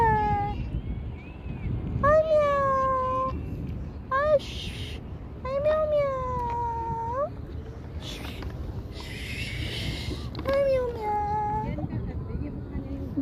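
A large brown cat in a park in Doha, Qatar meows several times, drawn-out rising and falling cries spaced a second or two apart, close and clear over faint background noise.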